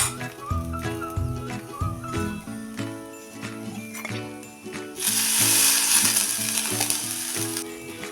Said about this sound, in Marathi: हे आता थोड्या तेलावर हे दोन्ही भाज्या मी परतून घेते